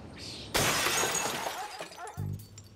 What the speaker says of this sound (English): A 250-pound wall of glass has fallen and shattered in Alan's bathroom